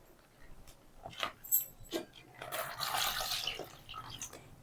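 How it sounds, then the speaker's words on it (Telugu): Water is poured into soaked toor dal in a cooking pot, giving soft splashes and a brief gushing pour near the end, fairly quiet and close, with faint scattered clinks before it and no talk. "ఇప్పుడు ఇందులో కొంచెం వాటర్ తీసుకుని ఇలా వాటర్ వేసేసుకోవాలి"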